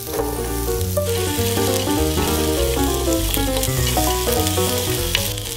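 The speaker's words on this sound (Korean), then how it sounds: "달군 팬에 식용유를 약간 두르고 한입 크기로 썬 채소와 양송이 버섯을 넣어 볼까요" Bite-sized vegetables and button mushrooms fry in a little cooking oil in a hot pan, giving a steady, loud, continuous sizzle throughout, with background music underneath.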